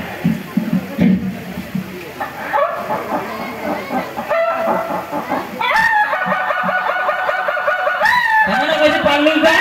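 A performer at a Rongali Bihu festival gathering imitates a clucking hen and a crowing rooster, close and loud, with choppy cackles building into drawn-out, repeated crows in the second half.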